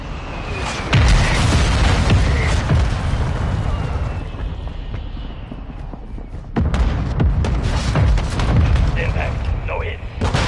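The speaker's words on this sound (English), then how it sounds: "Mortar strike inbound now." Mortar strike explosions in Call of Duty MW3 on PS5: heavy booming blasts land in a few bursts over a constant roar of battle noise, loud and close.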